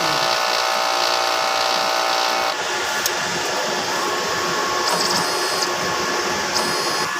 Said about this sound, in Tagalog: Ang aming smart to printer, araw-araw po namin siyang ginagamit.